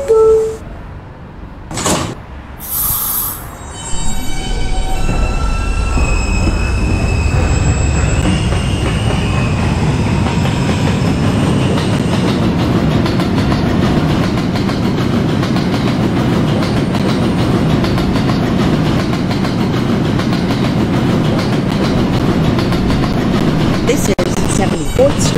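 An R160B Alstom subway train on the Q line in a Roblox game runs loudly and steadily after a few seconds of quieter sounds, with a deep rumble and continuous wheel-on-rail noise that lasts throughout.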